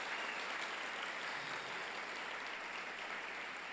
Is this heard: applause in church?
yes